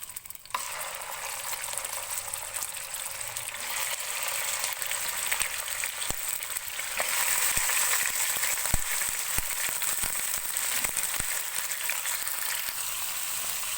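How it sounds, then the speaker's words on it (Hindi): Chicken sizzles and fries steadily in hot oil with cumin, cloves and black pepper for a Pakistani chicken salan, a continuous close crackle broken by several sharp stirring clicks from a utensil. "चिकन को ऑयल में थोड़ा सा फ्राई करेंगे, तो थोड़ा सा कलर चेंज हो जाए"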